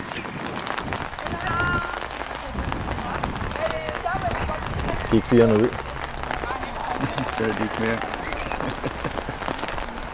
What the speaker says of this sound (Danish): det begyndte rigtig at regne